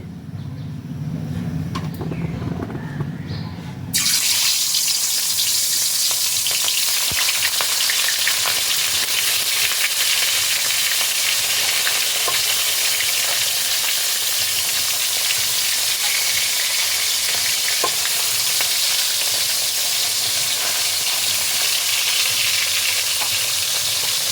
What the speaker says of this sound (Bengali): তেলটা বেশ ভালোভাবে গরম হয়ে গেছে ওই তেলের মধ্যে আমি দিয়ে দিচ্ছি মাছগুলো